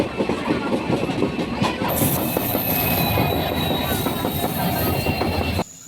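A passenger train runs on rails, its continuous rumble and clatter filling the scene with a high wheel squeal rising partway through, loud and near, before the noise drops off abruptly near the end.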